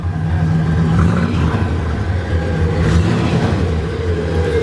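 A deep, continuous engine rumble from a 1967 Plymouth Satellite with a 318 engine and turbo mufflers, idling close by, steady and loud with a low throaty tone and no talking.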